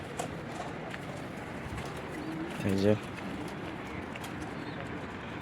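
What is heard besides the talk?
pigeons cooing in a loft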